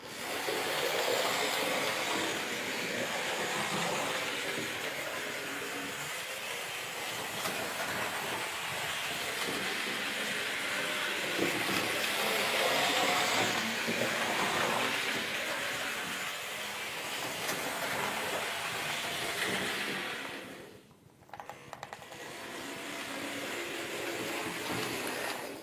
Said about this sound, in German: Ich gebe hier gleich einmal Vollgas und wir schauen mal, was die Lokomotive daraus macht.